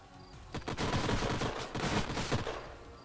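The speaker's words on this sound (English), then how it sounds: "Turrets taking shots." Turrets fire in the strategy video game Age of Wonders: Planetfall, a dense, continuous barrage of loud gunfire bursts that keeps going for about three seconds with no voices over it.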